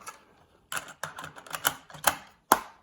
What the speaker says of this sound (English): Pop a tape in.